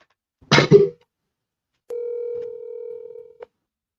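Telephone line for a prank call: a brief click and rustle, then a steady electronic tone holds for about a second and a half before ending with a click.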